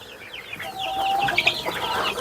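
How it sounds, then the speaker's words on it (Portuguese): Embrapa 51 chicks and laying hens cluck and chirp in a small flock, with several overlapping calls and one sharper squawk close by, no talking. "Então a gente está com 50 pintinhos aqui da Embrapa 51."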